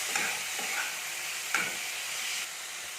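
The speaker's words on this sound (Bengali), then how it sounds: "এটাকে আমি ভালো করে নেড়ে নেবো" A spoon scrapes and stirs spiced potato filling in a hot cooking pan, a soft sizzle running underneath with a few distinct scraping strokes, close and fairly quiet.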